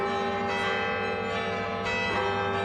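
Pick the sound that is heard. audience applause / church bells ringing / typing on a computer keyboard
church bells ringing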